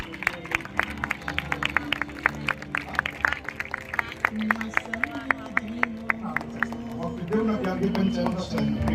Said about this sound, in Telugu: చప్పట్లు కొట్టి దేవుని నామాన్ని మహిమపరచండి